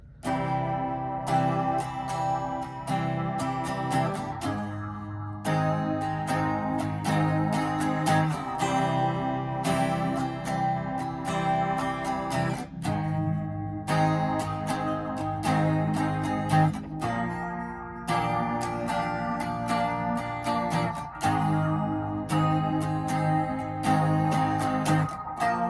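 Electric guitar playing the verse of a song, a sustained, loud, continuous passage of chords and riffing with a steady rhythmic pulse throughout.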